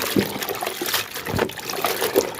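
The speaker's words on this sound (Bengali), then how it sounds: "পুঁই শাকগুলো ধুয়ে নিচ্ছি আমি" Malabar spinach leaves are rinsed in water, giving a steady close splashing and trickling with small sloshes throughout.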